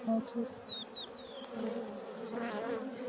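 Honeybees buzz at beehives during a hive check, a steady close drone with a few brief higher whines from passing bees; no talk over it.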